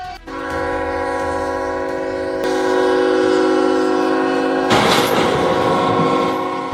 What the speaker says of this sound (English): causing an approaching freight train to slam into the trailer